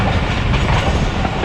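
Thal Express passenger train rolling steadily on the rails, a continuous loud rumble with rhythmic clickety-clack of wheels over track joints, heard from on board with no talking.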